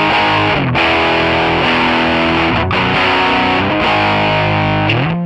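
A heavily distorted pop punk electric guitar tone from Amplitube 5 plays sustained power chords at steady loudness, with brief gaps between chord changes and no voices.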